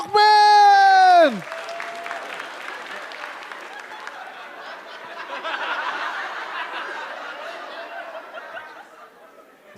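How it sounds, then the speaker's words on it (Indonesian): A studio audience at a stand-up comedy competition claps for Mukmin after a loud musical sting, the clapping steady and moderate and mixed with scattered chuckles and crowd murmur. "Beri tepuk tangan yang meriah untuk"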